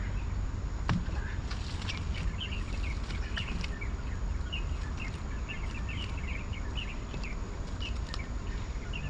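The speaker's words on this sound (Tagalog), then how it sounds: "Yung mga huni ba ng ibon, relaxing sa tenga." Scattered high chirps and short songs from birds at a remote, overgrown fishing spot in Taiwan, faint and somewhat distant, over a soft steady hiss of insects and ambient noise.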